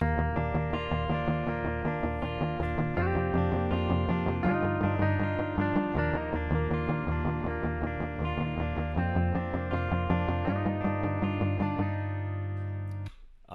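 A distorted electric guitar plays a steady, chugging riff, double-tracked and panned left and right so it sounds thick and wide, running continuously before stopping abruptly.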